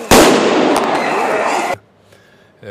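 Fireworks on Finnish Independence Day in Tampere: a loud close burst opening a dense crackling, popping barrage that cuts off sharply, followed by near silence with faint distant pops.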